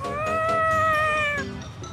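A cat meows in the video game Tales of Xillia 2: one long, clear, drawn-out call followed by a shorter, fainter one, heard alone and close up.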